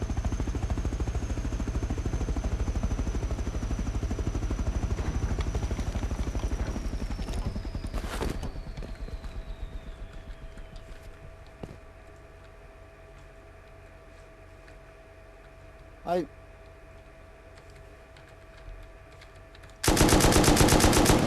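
Sustained rapid automatic gunfire at a helicopter in the video game Rust, loud continuous bursts with rotor hum that thin into sparse single shots and a faint drone, then a sudden loud final burst.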